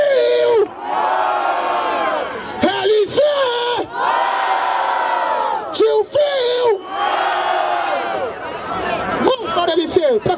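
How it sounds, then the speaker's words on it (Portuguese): A large crowd at a rap battle roars and yells in long, loud waves of cheering, separated by brief dips, voices overlapping throughout. "barulho para as rimas do LC!"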